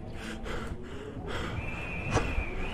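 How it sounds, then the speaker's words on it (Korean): Heavy, ragged breathing in a Minecraft horror escape map, several rough inhales and exhales close up, with a faint tonal hum and a brief sharp knock near the end. "숨소리가 거칠어."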